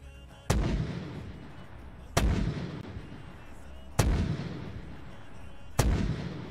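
Heavy weapon fire in a military video game, four loud booming shots spaced about two seconds apart, each with a sharp crack and a long rumbling tail.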